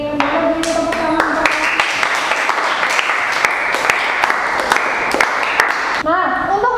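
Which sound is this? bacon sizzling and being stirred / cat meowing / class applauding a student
class applauding a student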